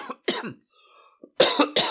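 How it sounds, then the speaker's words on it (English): A man's coughs, several sharp bursts in quick succession, the first two, a short pause, then two heavier rasping coughs close to the mic. "Man, this cough sucks right now."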